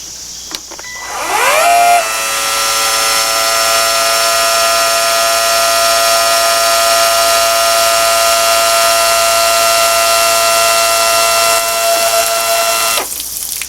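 A BAUER 20V transfer pump starts up and runs with a loud, steady whine and hum while filling a water hose, holding constant for several seconds before shutting off.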